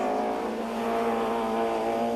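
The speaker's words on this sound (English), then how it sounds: "BMW sounding crisp" A BMW touring car races at Oulton Park in the 1993 British Touring Car Championship, its engine holding a steady, crisp high-pitched drone at close range throughout.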